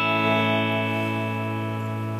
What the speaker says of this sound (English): The second chord I've put on the PDF is an A